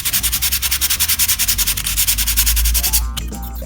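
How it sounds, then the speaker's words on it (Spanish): Hand sanding across the surface of a carved alebrije figure, a steady rapid rhythm of close, loud abrasive strokes, followed by a short scraping shuffle at the end. "vamos a empezar a lijar un poco"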